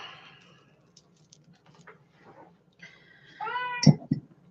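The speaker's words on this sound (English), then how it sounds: "I'm going to give my cat some wet food because he's going to just keep meowing" A hungry cat meows for food, with a couple of faint short cries followed by a louder, drawn-out meow up close, then soft taps and quiet between.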